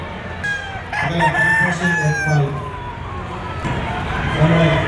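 Several gamefowl roosters of the LDT Boston Secret White breed crow at a gamefowl expo, the calls overlapping, with clucks and distant crowd chatter beneath them.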